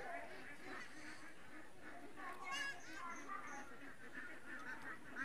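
Khaki Campbell ducks about two months old, kept alongside a young goat, call faintly in a chorus of repeated quacks and honks, with a voice talking over them.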